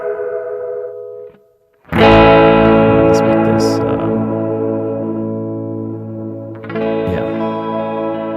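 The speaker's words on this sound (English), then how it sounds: "let's start with echo and reverb at the same time" A voice processed with echo and reverb effects at once, with heavy chorus and distortion, a sustained smeared tone that trails and repeats, loud and close, after a short spoken line.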